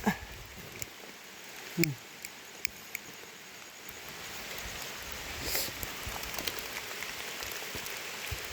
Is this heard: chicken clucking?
no